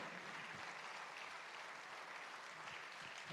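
Audience applause for the Tonara women's choir at a Sardinian folk song festival, a steady, distant wash of many hands clapping.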